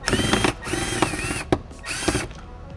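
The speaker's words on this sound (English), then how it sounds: "Now we take the screws out, one behind the handle" A power drill backs out interior door panel screws on a 2021 Dodge Charger, with several short close whirring bursts separated by brief pauses and clicks.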